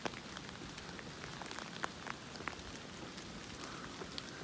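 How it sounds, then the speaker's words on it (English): Heavy rain pours steadily outdoors on the way to a beauty spot, a dense continuous hiss with scattered sharper drop patters throughout, with no voices. "it's raining pretty hard"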